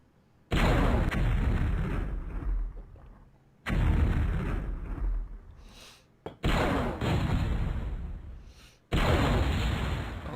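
Heavy explosive blasts from a Dragonoid Fire Blade mech attack in the video game MechQuest, four loud booming bursts each decaying over a couple of seconds, with no talk.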